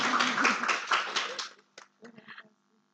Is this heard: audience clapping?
yes